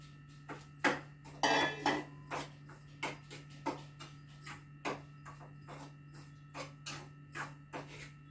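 Pearl millet flour roasting in ghee in a pan, heard as a regular series of dry scraping and tapping strokes from a spatula against the pan over a steady low hum, close and fairly quiet.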